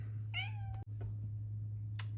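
A house cat gives a single clear, close meow over a steady low hum, followed by a few faint knocks and rustles in a quiet room.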